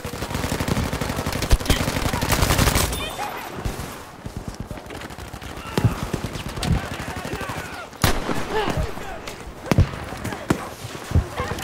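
Rapid gunfire in the World War II shooter game Battlefield 5, with dense bursts of automatic shots and sharp single reports, loud and continuous throughout with occasional brief gaps.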